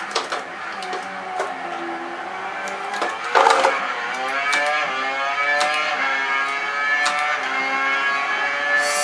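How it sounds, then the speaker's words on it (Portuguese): In the F1 2012 racing video game, a race car's engine whines through a series of rapid downshifts under hard braking, the pitch stepping down in close succession before rising again as it pulls away. "Agora na placa de 150 metros a gente freia forte para a primeira marcha."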